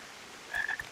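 A frog in the Final Fantasy XIV video game gives a short croak, a quick raspy burst heard alone over faint background ambience.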